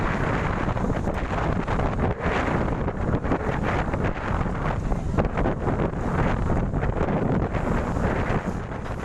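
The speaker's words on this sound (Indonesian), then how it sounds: "besarnya ombak serta angin kencang" Strong wind roars into the microphone over crashing high sea waves on the Surabaya coast, a dense and continuous loud rush that does not let up.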